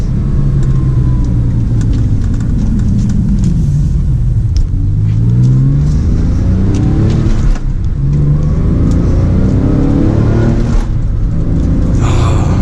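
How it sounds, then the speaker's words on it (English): A Porsche 911 Carrera with a manual gearbox accelerates through the gears, its exhaust note climbing and dropping in sweeps with each shift, loud and continuous from the cabin. "We have a pretty good exhaust tone, so we'll be able to accelerate here in just a sec."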